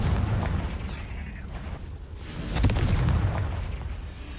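Confringo explosion spell fired in Hogwarts Legacy: rumbling, continuous blasts and booms with crackling bursts, swelling to a louder impact midway before settling into a heavy roar.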